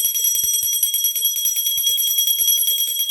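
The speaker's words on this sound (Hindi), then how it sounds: "हम घंटी बजाएंगे।" A small brass puja bell rung by hand during a Tulsi Vivah worship ceremony, giving a continuous bright, shimmering ring with a quick repeated clapper rattle, close and alone.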